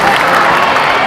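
An audience at a hands-only CPR training event applauds in a dense, steady wash of clapping. The crowd is loud and close throughout, and there is no distinct speech.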